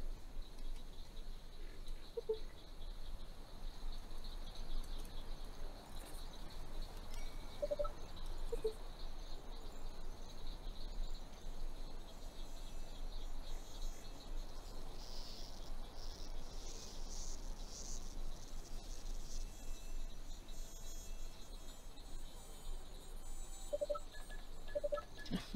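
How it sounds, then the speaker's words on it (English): A thin, high mosquito-like buzz from Zoo Tycoon 2 whines steadily over a soft background hum, with a few faint clicks and blips scattered through. "Sound of mosquitoes."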